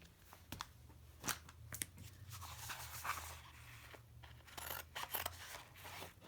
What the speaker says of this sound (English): So I'm just going to cut the extra real quick